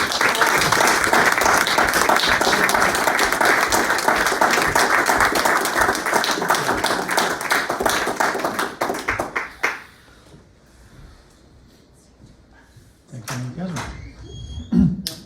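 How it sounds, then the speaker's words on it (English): Audience applause and clapping for poets at a poetry reading, loud and dense for about nine seconds before fading out, followed by quiet and a few knocks. "I'd like to get a round of applause for each of our poets"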